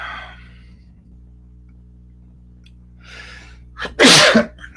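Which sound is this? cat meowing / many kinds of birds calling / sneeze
sneeze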